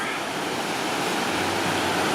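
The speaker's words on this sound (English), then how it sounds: "I'm pretty sure this is the Beaver River" Water rushes steadily past a dam with a fish ladder on the Beaver River in Thornbury, making a continuous broadband roar that stays even and close throughout, with no voices.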